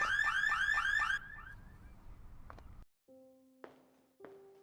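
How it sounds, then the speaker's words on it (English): A car alarm in a mystery video game blares in rapid repeating electronic whoops, then gives way to quieter steady tones and a few short clicks. "My alarm just went off."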